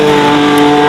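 A road-going supercar engine holds a loud, steady high-pitched note with strong sustained harmonics, a brief continuous rev heard close up with no voices.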